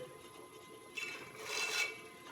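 A pottery rib scrapes along the base of a clay lid on a spinning wheel, making faint, soft raspy rubbing strokes that swell briefly and then fade to a quiet hiss.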